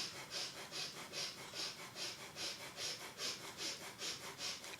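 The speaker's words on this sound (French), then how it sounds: "Pratiquez une respiration puissante abdominale, une respiration du feu." Breath of fire in kundalini yoga: rapid, forceful abdominal breaths pulse in a steady rhythm of about two per second, close and sharp through the nose, with no talking over them.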